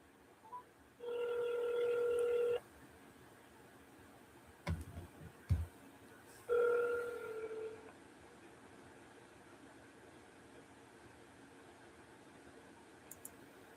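A telephone dials out with DTMF-style tones, two steady tone bursts of a second or two separated by a few clicks and taps, fairly clear against a quiet room with no talking.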